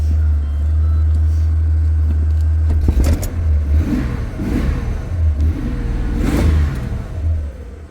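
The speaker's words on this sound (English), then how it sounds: "Let's see if it revs. Can you start it for me?" A car engine with a misfire idles, then revs up loudly several times in quick bursts, close by.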